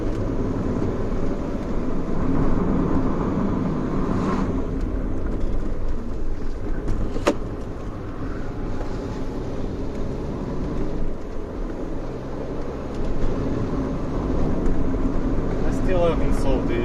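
Rover 400 car driving, its engine a steady low rumble with road noise that swells slightly as the idle rises between gear changes, continuous and close throughout.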